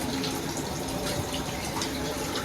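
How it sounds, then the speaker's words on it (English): Hot water runs steadily from a tap, a constant even hiss and splash filling the whole stretch with no talking. "So we're gonna turn off this water."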